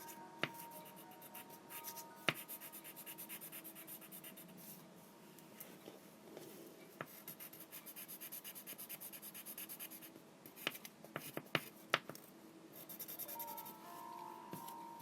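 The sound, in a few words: colored pencils coloring and blending browns on paper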